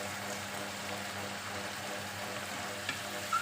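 Food fries in a pan with lively spitting and splattering oil as cooking wine and sesame oil are added, a steady crackling sizzle at moderate volume, no talk.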